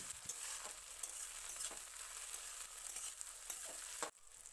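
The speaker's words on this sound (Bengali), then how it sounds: "পেঁয়াজটা একটু ভাজা ভাজা মতো হয়ে এলে তার মধ্যে আগে থেকে কুচি করে রাখা টমেটো দিয়ে দিতে হবে" Chopped tomato sizzles and fries with onions in a pan, a steady crackling hiss with a few stirring scrapes, close and continuous, cutting off abruptly near the end.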